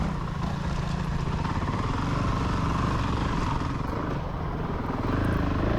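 A Honda CRF 450 RL dirt bike rides along forest trails and through clearings, its engine a steady, fairly distant drone that holds constant throughout, with no talking.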